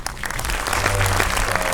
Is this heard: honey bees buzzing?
no